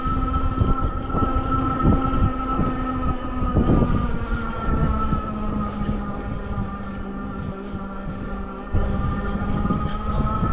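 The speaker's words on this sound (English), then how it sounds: "Motor noise, about the same as throttle, maybe just a titch more noise, but not much." While riding, the hub motor of a Retrospec Chatham Rev electric bike gives off a steady tonal whine, with rushing road and wind noise beneath it.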